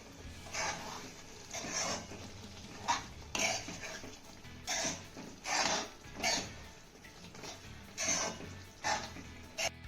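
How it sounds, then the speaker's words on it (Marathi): A spatula scrapes and stirs a dough-based breakfast dish in a pan, with repeated bursts of scraping and clinking against the metal, fairly close and in an uneven rhythm with short pauses between strokes. "एकदा हा नाश्ता ना तळापासून आपण हलवून घेऊया"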